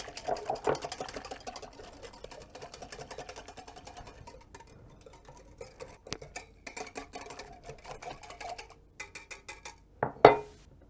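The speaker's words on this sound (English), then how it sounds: "Give it a whisk." An electric whisk whirs in a bowl mixing yeast into warm water for vegan naan dough, a quiet steady buzzing broken by light clinks and taps, ending with a sharper knock of the beaters against the bowl.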